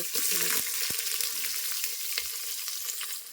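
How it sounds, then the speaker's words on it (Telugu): Whole spices and onions frying in oil and ghee for chicken biryani, a bright steady sizzle close up with occasional stirring knocks, and no talking. "ఇవి వేసుకొని కొంచెం అలా అలా ఫ్రై చేద్దాం"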